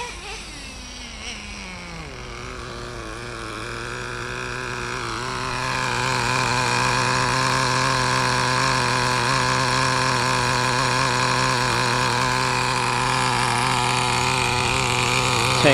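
A Traxxas Revo nitro RC engine fitted with a Traxxas dual chamber pipe and drilled stinger, revving down and then settling into a steady, buzzy high-pitched run, close and continuous.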